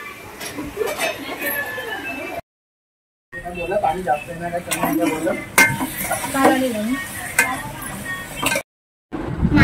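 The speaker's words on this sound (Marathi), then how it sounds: "मम्मी आहे भांडी लावते।" Dishes and pots being put away at home by a mother, scattered clinks and metallic knocks of cookware at close range, heard beneath ongoing conversation with two brief silent gaps.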